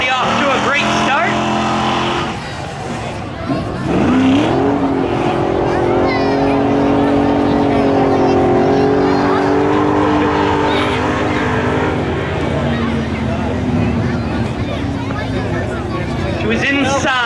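Street-legal drag race cars, including a 1986 Camaro, launch and scream down the track at Oxford, engines rising and shifting in pitch over several seconds, while an announcer talks continuously over the roar.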